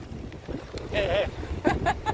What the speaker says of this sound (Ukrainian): Ну знов вітер в Роттердамі.